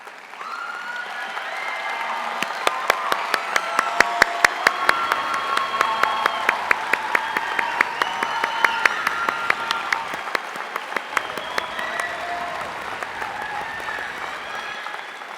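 Graduation ceremony audience applause for students of the Haynes Academy for Advanced Studies class of 2023, a long sustained wave of clapping from a large crowd with some sharp nearby claps standing out, swelling then slowly tapering off.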